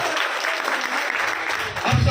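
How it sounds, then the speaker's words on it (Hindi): An audience applauds steadily and densely at a Sen Samaj state workers' community conference, a continuous wash of clapping with no pauses. "जोरदार ताली भैया की।"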